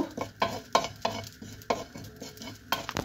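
Cumin seeds and a dried red chili dry roasting on a griddle, stirred in quick scraping strokes that give a repeated rhythmic clatter with a light sizzle underneath, close up and without talk.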